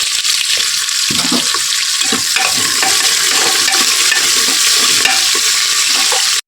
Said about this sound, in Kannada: ಹಸಿಮೆಣಸಿನಕಾಯಿ ಈರುಳ್ಳಿ ಬೆಳ್ಳುಳ್ಳಿ ಕರಿಬೇವು ಇವೆಲ್ಲ ಒಂದೇ ಸರಿ ಹಾಕೊಂಡ್ಬಿಟ್ಟು ಫ್ರೈ ಮಾಡ್ಕೋಬೇಕು